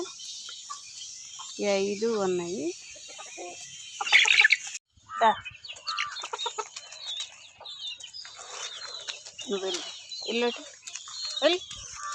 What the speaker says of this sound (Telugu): ఈ కోడి తాలూకు పిల్లలే ఇవి